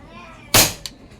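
A PCP airgun made by a workshop in Taytay, Rizal fires once with a sharp, loud crack that decays quickly, followed by a faint click, against quiet surroundings.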